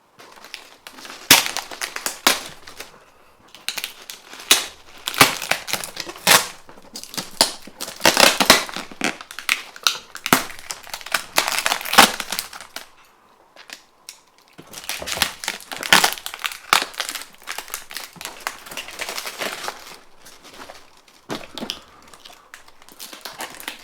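Crisp plastic packaging around a mail-order rare houseplant being unwrapped, with loud, close crinkling and crumpling in repeated bursts and short pauses between them.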